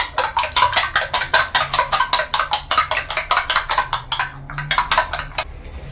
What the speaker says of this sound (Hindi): एक हमने ये अंडा ले लिया, इसको अच्छी तरह फेंट लेंगे।